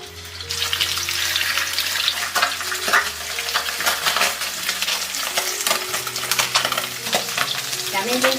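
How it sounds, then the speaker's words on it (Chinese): Fish bones fry in hot oil in a wok, a loud, dense crackling sizzle with scattered sharp pops and occasional scraping, continuous from start to finish without any voices. "再来起锅热油，把鱼骨头先煎一下，"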